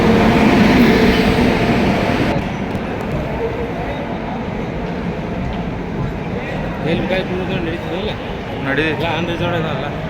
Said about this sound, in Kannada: ನಮ್ಮ ಬೆಳಗಾವಿ ಸುಂದರವಾದಂಥ ರೈಲ್ವೆ ಸ್ಟೇಷನ್ ನೋಡ್ರಿ ಹಂಗೈತಿ